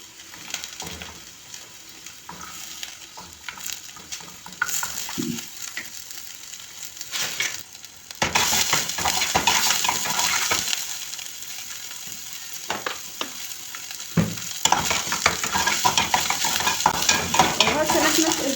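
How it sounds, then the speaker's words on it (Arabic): Onion fries in a pan, a sizzle that swells loud after a quieter, irregular start, with stirring scrapes and occasional utensil knocks over the hiss. "وهسه نحمس البصل."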